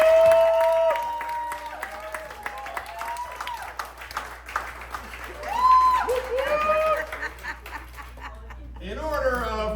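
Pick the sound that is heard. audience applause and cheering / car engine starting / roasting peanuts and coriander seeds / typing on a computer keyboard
audience applause and cheering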